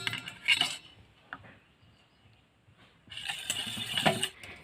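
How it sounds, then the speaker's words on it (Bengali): A whisk clinks and scrapes against a bowl while oil, yogurt and date palm jaggery are beaten together into an eggless cake batter. There are two bursts of quick, brisk metallic rattling separated by a quieter pause. "এবার আমি এই সব উপকরণগুলো একসাথে ভালো করে ফেটিয়ে নেব।"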